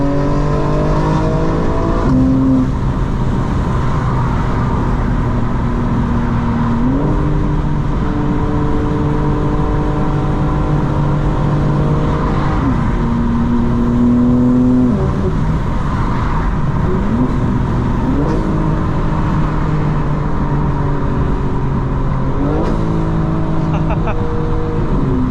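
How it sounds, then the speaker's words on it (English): A 2025 BMW M4 Competition engine revs up and down through repeated downshifts and upshifts without braking, its pitch climbing and dropping in steps, loud and close throughout, with a voice talking over it at times. "I'm downshifting and upshifting without braking to stabilize the car."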